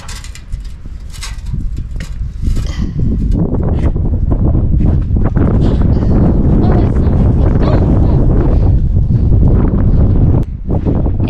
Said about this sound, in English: It is getting windy inside this slot canyon